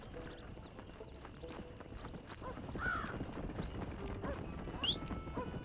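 Horse hooves clip-clop steadily at moderate distance in the Red Dead Redemption game world, over a dense ambient bed with occasional crow caws and bird calls.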